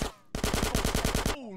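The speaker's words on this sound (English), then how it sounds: "Get some suppressing fire in there!" Sustained machine gun burst in Grand Theft Auto: San Andreas, about a dozen rapid rhythmic shots close and loud after a brief pause, ending with a falling tone.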